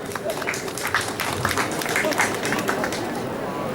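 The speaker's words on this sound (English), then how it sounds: "Give them a round of applause." Audience applause greeting a volunteer called up at a WW1 at Home event in Norwich, a steady patter of clapping with crowd murmur throughout.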